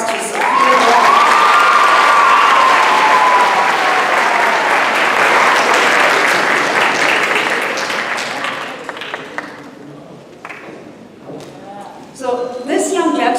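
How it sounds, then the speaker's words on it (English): Loud, sustained applause and cheering from a graduation ceremony crowd honoring a graduating student, with a shouted whoop early on, fading to scattered claps and voices near the end. "So please give a round of applause to Sophia Gomez."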